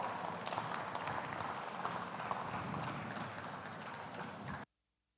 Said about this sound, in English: Ladies and gentlemen, with a resounding applause, please make welcome Akeem Lawal.